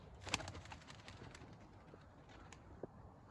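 Tumbler pigeons kept as play birds give soft, low cooing calls at a loft, faint and intermittent over quiet background noise, with a few sharper flutters and clicks.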